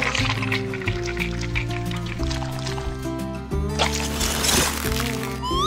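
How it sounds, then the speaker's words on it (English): Thick liquid rind mix for a watermelon popsicle is poured into a mold, giving a soft continuous pour with drips and trickles over a steady background tone. "Now I'll pour in the rind layer."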